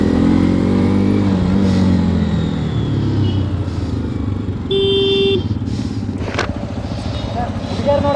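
A Hero XPulse motorcycle on the road, its engine note rising and falling with other traffic nearby and a brief horn toot. Voices talk over the engine throughout.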